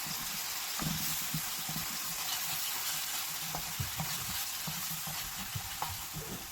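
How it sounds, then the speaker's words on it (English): Sweet chilli sauce stirred in a frying pan as it cooks down, with a continuous loud sizzle and bubbling hiss and a few soft scraping knocks from the utensil. "let me just stir it quickly because you see it's so burnt"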